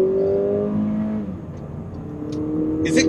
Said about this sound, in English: It can still be considered an engine that sounds moderately okay